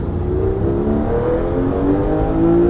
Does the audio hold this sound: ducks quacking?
no